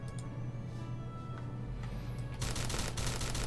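Florian rifle shots in the Starbound video game, a steady stream of game weapon fire with a dense, continuous burst growing louder near the end.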